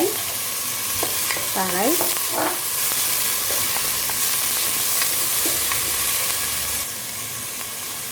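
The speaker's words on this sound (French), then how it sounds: "que je fais revenir. Je mets mon ail, les 2 gousses d'ail," Two garlic cloves frying in a pan with a loud, continuous sizzle and hiss, scraped and stirred now and then, close to the listener.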